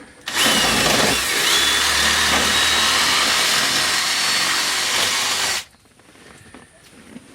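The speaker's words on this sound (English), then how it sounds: "I'm gonna auger out on the bottom some more" Power drill augering out the ignition lock cylinder of a Chevrolet GMC C10 truck, a loud, close, continuous whine running for about five seconds before stopping abruptly, leaving quiet room noise.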